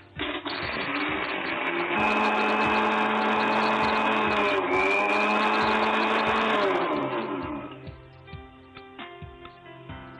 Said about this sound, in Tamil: இப்போ நம்ம ஃபர்ஸ்ட் பொட்டுக்கல்ல ஜார்ல போட்டு அரைச்சி எடுத்துக்கலாம்